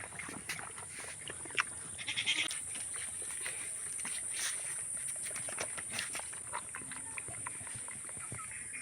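Goats feeding at a rural Bangladeshi homestead, with soft rustling, munching and shuffling hooves, a few light knocks and a faint bleat-like call over a constant high insect whine; muffled voices in the background.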